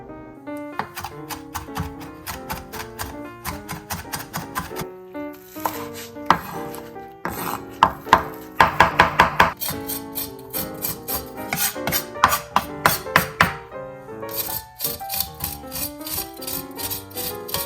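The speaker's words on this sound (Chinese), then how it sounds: "再把这3种香料混合，切好之后混合，然后切得越碎越好" A knife finely chopping three herbs for garlic butter clams, rapid rhythmic taps on a board in long runs with brief pauses, close and crisp, no speech.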